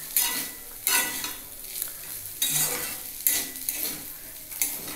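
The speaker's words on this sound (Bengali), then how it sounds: "আরেকটু কড়াইতে নাড়িয়ে নিলে আমার হয়ে যাবে" Fish curry is stirred in a kadai: a spoon scrapes and clinks against the pan in regular strokes over a soft sizzle, close and moderately loud, with no voices.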